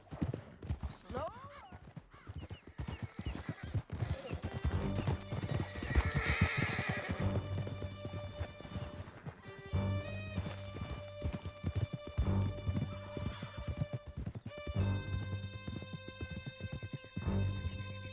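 Horses gallop with steady clip-clop hoofbeats and loud neighs in Red Dead Redemption 2, over a continuous musical score, with some voices heard in between.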